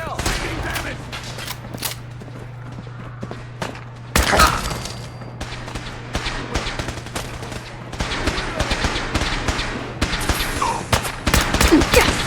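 Gunfire in Fallout 4 cracks out in scattered sharp shots and rapid bursts over a steady low hum, some shots close and loud, others fainter, with a brief voice in between.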